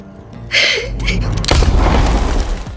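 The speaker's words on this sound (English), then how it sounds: "A gunshot cracked through the silence, scattering a flock of crows into the sky." A single loud gunshot effect in a dark thriller narration about a hitman, a sharp crack followed by a booming low rumble and lingering echo, heard alone without talk.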